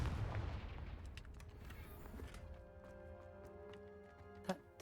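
The Confringo explosive spell goes off in Hogwarts Legacy: a booming blast that rolls away into a faint, ringing decay, followed by quiet ticking and one sharp crack near the end.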